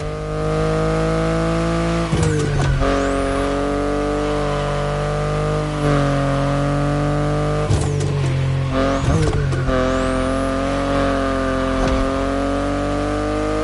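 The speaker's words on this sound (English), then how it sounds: "The BMW i8 is a car that stands out from the crowds." A BMW i8 sports car drives past with a steady engine drone, with several louder surges as it accelerates and passes, no voices.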